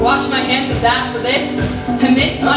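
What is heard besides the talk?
No everyday noise stands out behind the speech.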